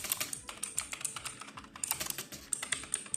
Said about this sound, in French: Le clavier qui est un clavier mécanique